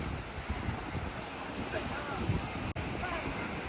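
Steady wind buffets the microphone with a constant roar on an island beach in El Nido, Philippines, surf-like wash underneath, loud and unbroken for the whole stretch.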